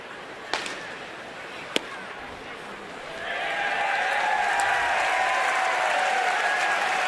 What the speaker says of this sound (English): A sarcastic cheer from the crowd here